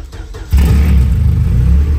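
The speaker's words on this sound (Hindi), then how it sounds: "अब जरा गाड़ी को स्टार्ट करने का प्रयोग करते हैं" A Honda car's engine cranks briefly and catches, settling into a loud, close, steady idle rumble after half a second of quiet.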